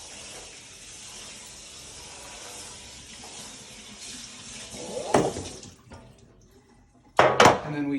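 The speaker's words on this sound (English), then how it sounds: "rinse out our container real quick" Tap water runs into a kitchen sink while a container is rinsed out, a steady hissing stream with a couple of louder splashing bursts near the end and no talking.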